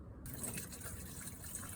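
Water pouring into the windshield washer fluid reservoir of a second-generation Toyota Prius under the hood, a soft, steady trickle heard alone and fairly faint.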